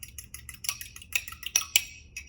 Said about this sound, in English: take a fork or whisk and whisk it till it's mixed and the egg's all broken up